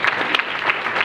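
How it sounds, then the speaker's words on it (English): A conference audience claps for a panelist being welcomed on stage at a fintech marketing event, a brief, dense burst of applause from a crowded room. "Let's give him a round of applause."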